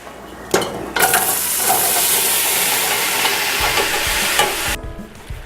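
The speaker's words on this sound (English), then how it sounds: "we're going to melt down the butter, and then we're going to take the apples," Apples, onions and carrots dropped into melted butter burst into a loud, close sizzle and frying hiss, with brief stirring clatter at the start and the sizzle cutting off near the end.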